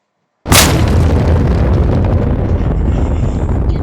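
A single powerful bomb blast in Disassembly 3D erupts suddenly after a short silence, then rolls on as a loud, rumbling roar that sustains to the end.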